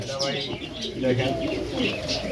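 Pigeons coo repeatedly in low, throaty murmurs close by at a pigeon seller's, overlapping with soft chirps and a murmur of voices in the background.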